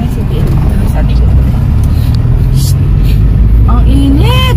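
Heavy low rumble of slow traffic on Sumulong Highway, loud and close engine drone filling the whole stretch, with a brief rising whine near the end.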